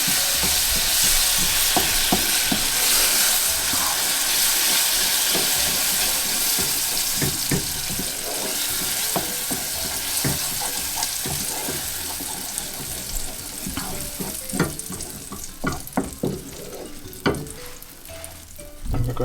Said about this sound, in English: So we've got our butter, so we're going to stir that in